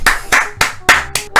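Single person clapping up close, six loud, sharp, evenly spaced claps in a slow deliberate rhythm with nothing else around them.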